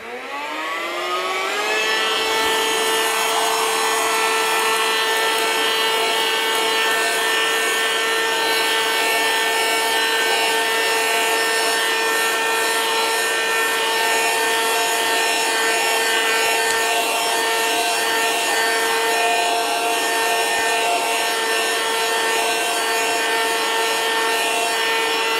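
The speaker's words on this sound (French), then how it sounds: "Et hop, on va aspirer." A Xiaomi handheld vacuum cleaner whirs up to speed and holds a steady, loud high-pitched motor whine for the whole stretch, close by with no talking.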